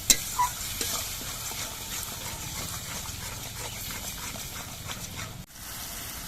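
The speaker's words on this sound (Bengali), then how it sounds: "এবার মশলাটা কিছুক্ষণ কষিয়ে নিতে হবে" A spice masala being stir-fried in a pan for a broccoli dish. A close sizzle runs under rhythmic scraping and stirring strokes, with a brief dip near the end.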